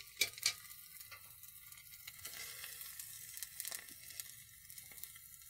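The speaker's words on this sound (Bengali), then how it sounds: "এগুলো এখন ভেজে নিল" Food fries in oil in a pan, giving a close, crisp sizzle with crackling bursts and a couple of sharper pops near the start, fairly quiet and with no talk.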